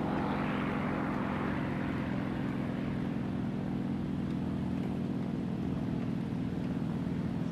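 A steady, loud drone of a propeller aircraft engine in the War Thunder simulator battle, a constant humming roar with a whine that fades slightly at the start and no talking.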